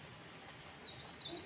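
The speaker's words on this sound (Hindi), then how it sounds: "चिड़िया की आवाज़ आ रही, चिड़िया देख रही है।" Faint, high-pitched bird chirps flicker in short bursts over a quiet outdoor background, distant and intermittent.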